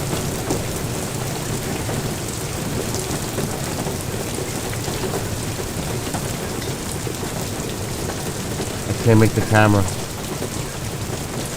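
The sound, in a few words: hail and heavy rain in a video game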